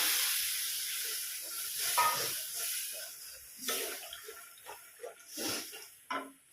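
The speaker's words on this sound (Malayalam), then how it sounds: "അതിലേക്ക് കുറച്ച് പുളി ഒഴിച്ച് കൊടുക്കണം. പുളിവെള്ളം കേട്ടോ." Tamarind water is poured into a simmering okra curry, setting off a loud hiss and sizzle that flares up in several bursts and fades between them, close by.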